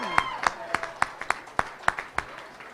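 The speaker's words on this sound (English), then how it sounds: "There's a little applause back there." Sparse, scattered handclaps from a small crowd at an election night event for a congressional candidate, about eight distinct claps spaced evenly, moderately near, with faint background voices.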